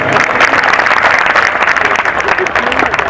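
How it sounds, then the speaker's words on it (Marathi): Audience applause at a staged one-act play welcoming an engineer guest, a dense steady wash of clapping filling the whole stretch, loud and close, with some voices mixed in. "जोरात टाळ्या वाजवा"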